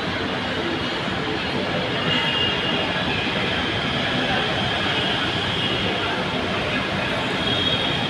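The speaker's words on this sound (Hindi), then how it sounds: "रैपिड रेल आ चुकी है RRTS" An RRTS Rapid Rail train pulls into a station, a loud, continuous rushing rumble of rolling wheels and air with a steady high whine running through it.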